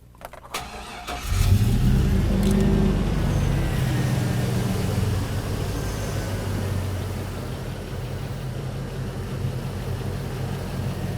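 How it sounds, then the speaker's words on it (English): A 2002 Chevrolet Silverado pickup engine with a P0174 lean fault cranks briefly and catches, surging loudly before settling into a steady, close-up idle that keeps running. "let's go ahead and start the engine."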